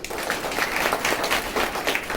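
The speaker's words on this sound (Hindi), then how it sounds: "तो सबके लिए जोरदार तालियां।" Audience clapping in a dense, steady burst of applause that stays fairly even for its short length, with no voices standing out.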